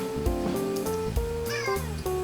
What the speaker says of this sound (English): Hello, fat cat.